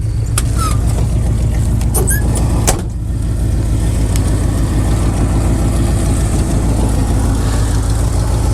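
Oldsmobile Rocket V8 in a barn-find square body truck runs steadily close by, a loud, even idle with a fast low rumble that continues unbroken, a few faint clicks and squeaks above it.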